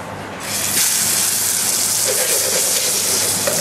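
Beef sealing in a hot pan, seasoned with Maldon salt: a loud, steady sizzling hiss starts abruptly and holds strong and close for the rest of the moment.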